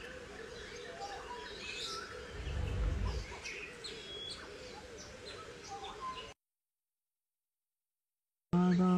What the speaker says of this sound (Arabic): هذا طائر الفرعوني، ما شاء الله